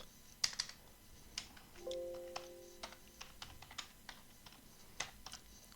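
Quiet, close keystrokes patter irregularly on a computer keyboard, with a short low hum partway through.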